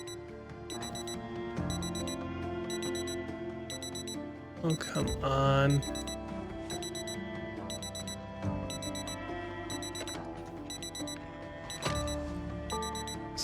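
A car alarm blares in Project Zomboid, a loud, rhythmic electronic pulse repeating steadily. A burst of other noise cuts in midway, and someone speaks briefly over it.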